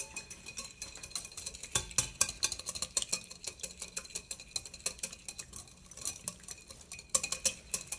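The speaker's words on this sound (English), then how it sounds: "A couple more whisks" A salad dressing being whisked briskly in a bowl in a test kitchen, producing a fast, steady run of light metallic clicks and taps that carries on for several seconds with no voices.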